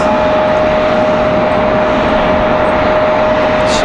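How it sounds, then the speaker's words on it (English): United Airlines airliner departing Raleigh-Durham airport, a loud, steady jet engine roar that fills the scene without letup, heard from nearby with no voices. "United off to Washington Dulles. United 2163."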